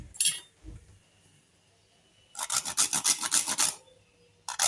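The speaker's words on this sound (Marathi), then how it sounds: "जायफळ किसून घातलंय मी" Nutmeg is grated for wheat kheer in quick close bursts: a brief scrape, a pause, then a run of about ten rhythmic rasping strokes and another short scrape at the end.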